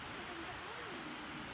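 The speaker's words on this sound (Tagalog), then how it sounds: "Yung tunog ng tubig, oh." Water of a stream flowing in Mote Park, Maidstone, Kent, in spring, a steady broadband rushing wash heard up close and continuous for the short span, with no clear talk over it.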